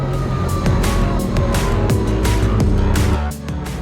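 At a Formula Drift event in Atlanta, a supercharged V8 BMW drift car screams loudly at high revs, its pitch sweeping up and down with sharp shifts before the roar drops away near the end.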